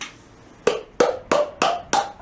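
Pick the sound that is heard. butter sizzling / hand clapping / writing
hand clapping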